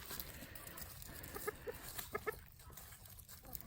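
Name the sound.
chickens clucking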